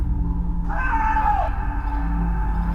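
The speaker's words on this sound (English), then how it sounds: "They suddenly heard a scream from a distance" An inhuman scream sounds from a distance: a wavering, howling cry that rises and bends downward over about a second, over a steady low hum.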